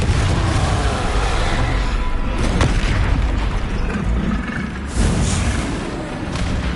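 A Confringo spell explodes in the video game Hogwarts Legacy, a loud, sustained booming blast that fills the whole moment with rumbling burst noise.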